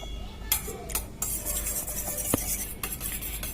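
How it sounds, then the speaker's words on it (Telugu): Five eggs beaten in a bowl: a utensil clinks and taps against the bowl in quick, irregular strokes over a steady background, close by and moderately quiet. "ఈ విధంగా ఒక ఎగ్ ఉంచుకొని మిగతా 5 ఎగ్గులు బీట్ చేసుకుందాం"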